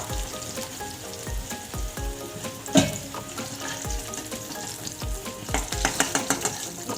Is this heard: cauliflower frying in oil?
yes